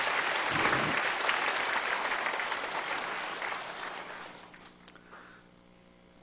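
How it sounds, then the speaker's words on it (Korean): A church congregation applauds steadily in encouragement of a board chairman and his family, a dense wash of many hands that slowly fades out over several seconds. "우리 박수로 한번 격려해 주시면 좋겠습니다"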